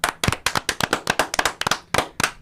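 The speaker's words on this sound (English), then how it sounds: "Can I get a round of applause, please?" Sharp, sparse claps from a small podcast studio audience, a dozen or so loud individual hand smacks in an uneven rhythm, close to the microphone with brief gaps between them.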